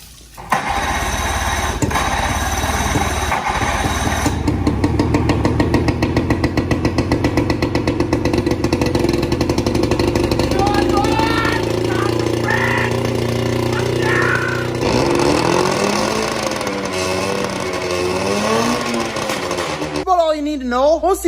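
A boat engine being brought back into use after winter storage runs loudly and steadily for about twenty seconds with a buzzing, rapid-firing pulse. A voice can be heard near the end.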